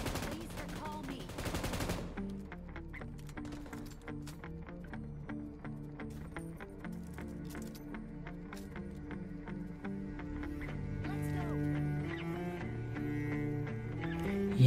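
An M249 light machine gun in PUBG Mobile fires long, rapid bursts of closely spaced, crackling shots, fairly quiet, with a few scattered single pops and game noise.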